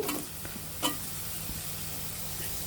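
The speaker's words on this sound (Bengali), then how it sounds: "এখন চিংড়ি মাছগুলো আমরা ভালোভাবে ভেজে নিব।" Prawns frying with onion, green chilli and black cumin crackle and sizzle close up, with one sharp stir or clatter near the start and a steady hiss after it.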